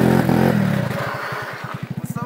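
Modified 50cc motorcycle with an altered silencer revs hard, then pulls away in a choppy, pulsing burble that fades with distance while popping rhythmically.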